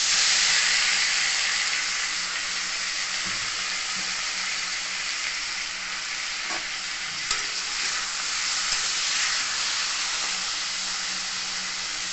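Chopped potatoes fry in a little fish oil for a Bengali chorchori, giving a loud, steady close sizzle with faint stirring scrapes throughout.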